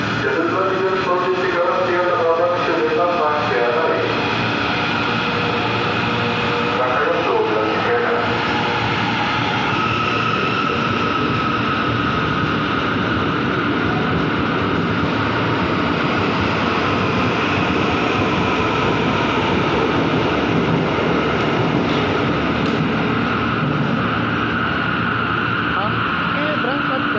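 JR 205 series commuter train running on the Cikarang line near Tanah Abang, a steady continuous rumble with rolling wheel noise throughout, station announcements and voices faintly underneath.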